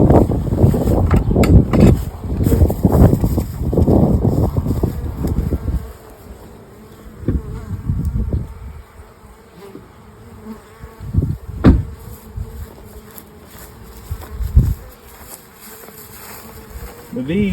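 Honey bees buzz in a steady drone as frames are added to a hive, broken by loud knocks and rustling from handling, especially at the start.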